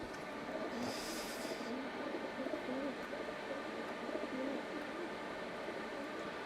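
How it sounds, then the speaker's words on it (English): Pigeon cooing in soft repeated phrases over steady rumbling background noise, with a brief high hiss early on; no talking. "That pigeon is pissed."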